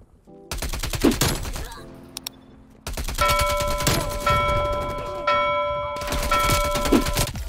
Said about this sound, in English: Dude, these shotguns are just destroying the vibe.